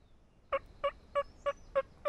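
A hand-operated turkey call imitates hens waking up during a South Dakota Merriam's turkey hunt, six soft evenly spaced clucking notes alone against quiet outdoor background.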